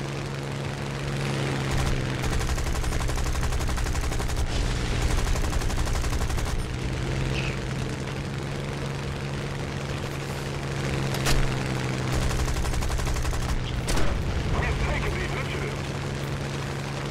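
Aircraft machine guns firing during a War Thunder match, a dense continuous rattle of rapid fire layered over a droning engine hum for the whole stretch, with excited talking over it.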